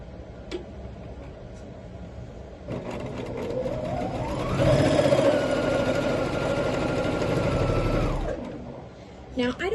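A sewing machine stitching the corners of a quilt block, starting up for a whirring run of several seconds at a steady rising pace, then stopping, with faint handling clicks before and after.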